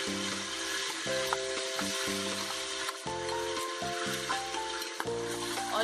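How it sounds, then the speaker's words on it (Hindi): Ground onion frying in hot oil with cardamom, cloves and black pepper, a steady dense sizzle running continuously throughout with music playing alongside. "अब हम इसमें डालेंगे पिसी हुई प्याज"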